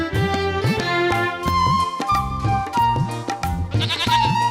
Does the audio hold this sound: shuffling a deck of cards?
no